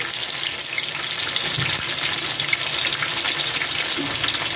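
Raisins fry in hot ghee for a vermicelli shemai dessert, producing a steady bright sizzle that runs evenly throughout with faint background clatter.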